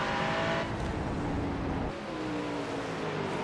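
GT3 race cars in the iRacing game at Okayama International, running nose to tail in a slipstream battle. Engines roar loud and steady with shifting pitch as the cars close in, with no voices over them.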